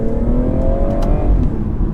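A 2017 BMW 440i Gran Coupe engine revs hard under acceleration, its tone climbing steadily and loud and close throughout, with a slight wheelspin edge and no talk over it.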